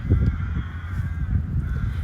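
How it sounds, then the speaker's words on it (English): Crows cawing near a forest in Ozorków, Poland, a few scattered caws over steady low outdoor rumble and distant hum, moderately near. "look at all those crows"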